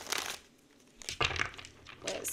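Tarot cards are shuffled in a few quick rustling bursts with short pauses between, soft and close.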